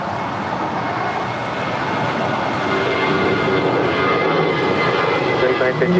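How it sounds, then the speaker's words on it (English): A Spirit Airlines Airbus A320 jet departs from LAX, its engine roar building steadily from moderate to loud over six seconds with a broad rushing tone. "Our next departure is Spirit Airlines Flight 953 heading to Detroit, Michigan in an A320."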